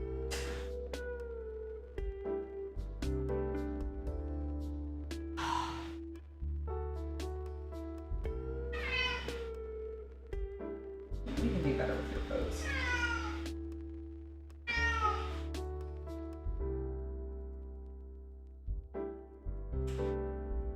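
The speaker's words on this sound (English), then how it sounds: "that was such a little pathetic meow" A cat gives a series of meows, some thin and plaintive, repeated throughout at close range over a steady background hum, with a person talking in between.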